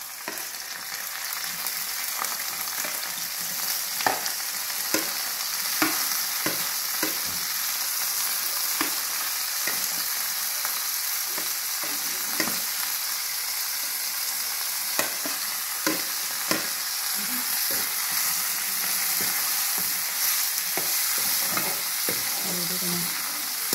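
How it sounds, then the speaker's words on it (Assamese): Onions frying in hot oil, a steady close sizzle throughout with scattered scraping and stirring clicks from a utensil in the pan. "ইয়াত তেলখিনি দিয়া আছে এতিয়া পিয়াজবোৰ দিম"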